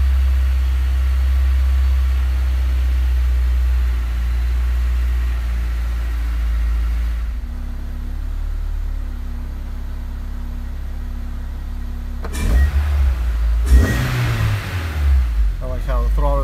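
Honda S2000 engine fitted with an electric big bore throttle body, starting from a steady idle hum, then a quiet lull before sharp, close throttle blips rev it up and drop back around the end.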